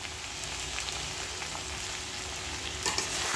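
Potatoes fry in a pan of spiced chicken curry as they are stirred, making a quiet, continuous sizzle with soft scraping from the stirring.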